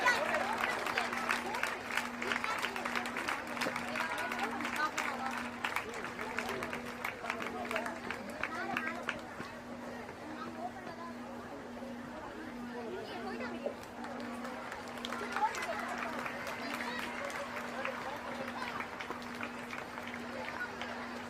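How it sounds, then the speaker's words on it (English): A crowd cheers and claps steadily at a school annual sports meet, a continuous wash of applause and chatter from many people, moderately distant, with a steady tonal hum beneath. "A loud cheer for Blessy Benita."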